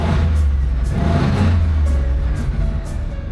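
1979 Camaro with a 305 V8 rumbling close and steady from inside the car, a deep continuous engine drone with mild swells in revs.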